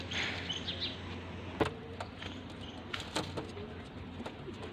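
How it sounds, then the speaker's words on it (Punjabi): Pigeons, including a Dabwala Golden pigeon, cooing softly close by amid faint chirps and a few brief clicks and knocks, with no talk over the low, murmuring calls. "ਲਓ ਜੀ ਆ ਤਿੰਨ ਕਬੂਤਰ ਹੈਗੇ ਆ"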